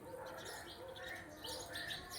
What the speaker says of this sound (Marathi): चिराई आपली चिमणी